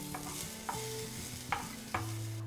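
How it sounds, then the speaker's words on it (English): Chopped garlic sizzles with spices in a hot pan, a steady soft frying hiss broken by several brief stirring scrapes, faint and close with no talk. "Once these spices are slightly browned, I'm going to add in some garlic, chopped garlic."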